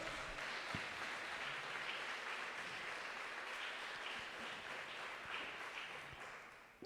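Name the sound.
church congregation applause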